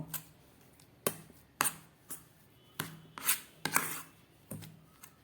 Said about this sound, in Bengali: এবার চলুন এটাকে দিয়ে পনির আর ছানার এই পেস্টটাকে আমি খুব ভালো করে আরেকটু মেখে নেব।